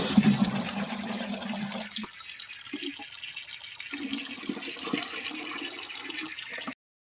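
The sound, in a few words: tap water pouring into a container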